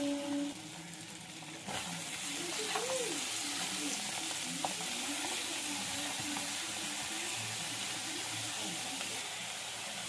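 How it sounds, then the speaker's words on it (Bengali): Red amaranth greens fry in fish oil, giving a steady sizzle that grows louder and fuller as the greens hit the pan, then stays constant with faint stirring. "মাছের তেলটা ভাজা ভাজা হয়ে গেছে। এবার শাকটা দিয়ে দেবো, লাল শাকটা।"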